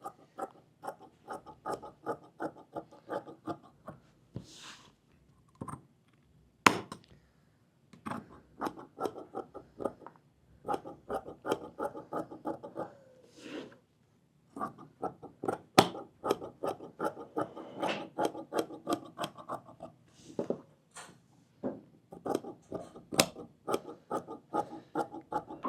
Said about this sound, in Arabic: نفس الشيء نحن فينا شو بس نقص الكفة القديمة ونعمل وحدة جديدة.